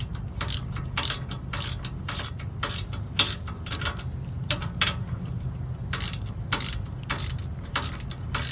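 A hand ratchet clicks in a steady run of quick, crisp strokes while tightening the front brake caliper bolts on a 2009–2014 Ford F-150 with the 3.7L engine, close up over a low background hum.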